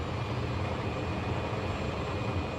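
Vintage T-33 jet engine in a flight simulator spooling up as the throttle is eased forward, a steady, loud broadband roar with a thin high whine running throughout, unbroken and without speech.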